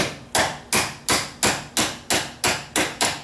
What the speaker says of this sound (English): just tapping the hinge pin in.